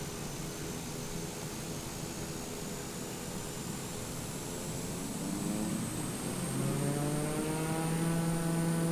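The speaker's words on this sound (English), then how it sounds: "Got that classic turboprop sound." A Beechcraft Texan II turboprop engine in a flight simulator hums steadily at idle, then its pitch and loudness climb as it throttles up into a stronger, droning roar, heard close and alone.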